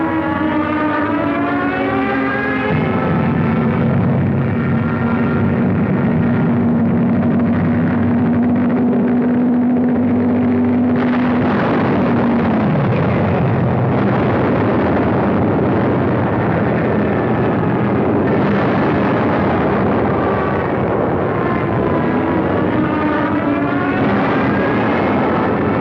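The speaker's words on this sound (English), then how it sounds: "From the skies, a bombardment to which we had no adequate answer." A WWII aerial bombardment over Tunisia brings a loud, sustained drone of aircraft engines under a long, wailing siren that rises and falls.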